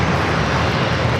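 A JetBlue Airbus A321 at San Diego airport gives a loud, dense, continuous jet-engine roar that fills the whole moment without a break.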